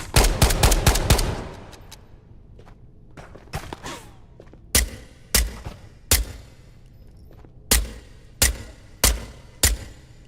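Suppressed gunfire in the VR shooter Ghosts of Tabor: a rapid close burst of muffled shots, then a pause and a string of single shots spaced about half a second to a second apart.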